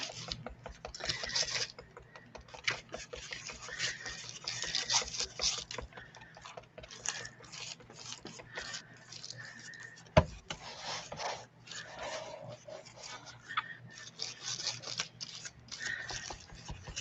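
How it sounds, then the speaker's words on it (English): Ink is rubbed off a glossy magazine page with steady back-and-forth rasping strokes, close and continuous, with one sharp tap partway through and no voice. "I'm rubbing some of the ink off of the magazine."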